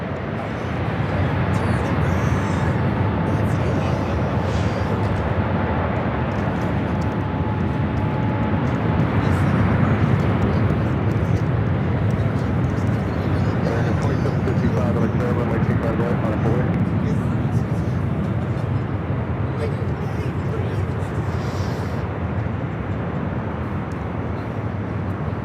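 An Airbus A380 jet takes off from LAX, a broad sustained engine roar that swells and holds over many seconds. A radio voice talks underneath the rumble at times.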